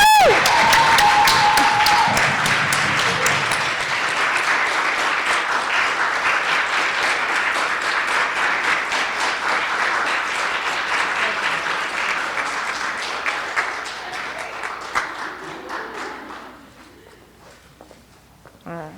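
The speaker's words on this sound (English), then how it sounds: "let's give each other a round of applause" Audience at a nursing school pinning ceremony applauds steadily, the dense clapping holding for about fifteen seconds before tapering to scattered claps, with a brief whistle near the start.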